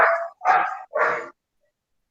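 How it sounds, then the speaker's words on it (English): A pet dog barks three times in quick succession in the background of an online school quiz competition. The barks are loud and close, followed by silence. "It is the noise from your dog that is causing us this problem."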